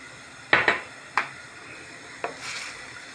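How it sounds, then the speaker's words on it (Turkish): A spoon stirs a mushroom mixture in a pot, giving a few distinct clinks and scrapes against the metal, close and fairly quiet, with short pauses between strokes. "Karıştırıyorum."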